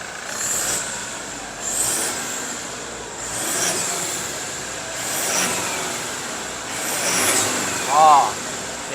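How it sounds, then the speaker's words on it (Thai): A Mercedes-Benz 280SE with a full CNC-bent stainless steel exhaust and straight-through muffler is revved in about five short, rising blips, fairly close, with voices talking in the background. "อ่ะเร่งฟังเสียงหน่อย"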